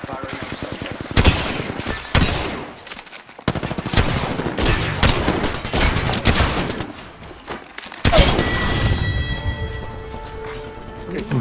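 Gunfire in the Apex Legends video game: loud, close bursts of automatic fire and single shots in irregular volleys, ending in a ringing electronic tone, with voices in between.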